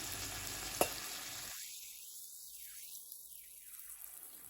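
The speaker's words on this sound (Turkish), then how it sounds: "Üç su bardağı su ilave edeceğiz. Sıcak su." Hot water pours onto rice in a pan for chicken and chestnut pilaf and sets off a loud broadband sizzle that cuts out abruptly, leaving a faint, thin hiss behind.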